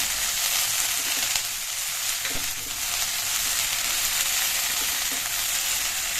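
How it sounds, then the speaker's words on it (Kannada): Cauliflower fries in oil with chili powder, giving a dense, steady hiss of sizzling close by, with a few faint stirring knocks and no speech. "ನಾವು ಇವಾಗ ಸ್ವಲ್ಪ ಆಯಿಲಲ್ಲಿ ಖಾರ ಪುಡಿ ಜೊತೆ ಸ್ವಲ್ಪ ಫ್ರೈ ಮಾಡ್ತಾಯಿದ್ದೀವಿ"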